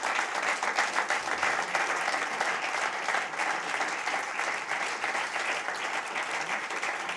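An audience claps for a jazz drummer at a music institute, a sustained even wash of applause filling the whole stretch at moderate level, with no talk over it.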